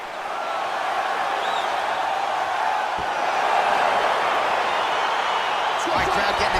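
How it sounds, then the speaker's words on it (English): A large arena crowd roars steadily throughout a UFC 4 fight as it gets underway, a dense, continuous wash of cheering with a few sharper whoops near the end. "crowd getting excited as this fight gets underway"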